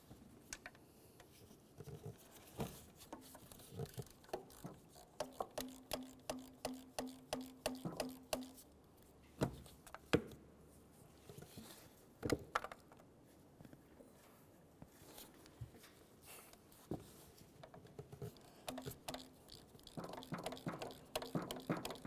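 A ratchet works a 13mm-headed bolt free from the exhaust manifold of a 2005–2010 Chevrolet, giving bursts of quick, faint metallic clicks in steady runs, with quieter handling noises and gaps between them.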